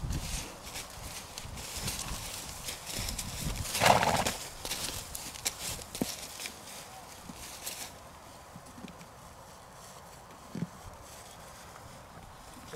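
Horses outdoors clip-clopping, with a loud whinny partway through and hoof steps continuing around it, along with rustling and faint voices in the background.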